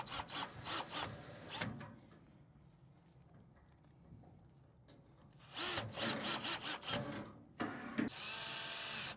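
A power drill drives screws into the brackets of an LG front-load laundry pedestal. Several short whirring bursts come in two clusters, separated by quieter stretches of handling.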